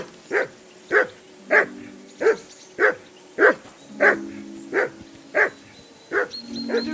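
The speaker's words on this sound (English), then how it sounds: "Call that dog, Henry." A dog barks in the video game Kingdom Come: Deliverance 2, about a dozen loud, evenly spaced barks roughly every half second to second, close by, with a low tonal hum and faint background sound between them.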